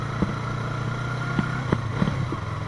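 Yamaha R3 motorcycle engine idling steadily with the clutch in, a low even hum broken by several short, sharp blips of the throttle, heard up close in hilly outdoor surroundings.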